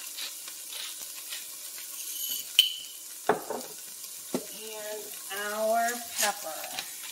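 A Tunisian spiced fish stew with potatoes, zucchini and garbanzo beans, seasoned with salt and pepper, cooks uncovered in a pan with a soft, faint sizzle, a few light clinks and stirring sounds, and a brief voice near the end.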